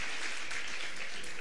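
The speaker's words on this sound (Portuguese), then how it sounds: "Dá uma salva de palmas para Jesus" A church congregation claps together in a dense, continuous burst of applause that fills the room evenly from start to finish.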